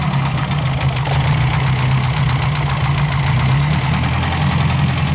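A 1994 Ford Ranger, an abandoned barn find, idles after a cold start, a steady close rumbling engine drone with even pulsing throughout.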